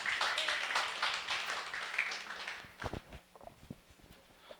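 Audience applause at an anniversary event for a Brazilian physics teaching program builds briefly, then thins out into a few scattered claps and shuffling sounds.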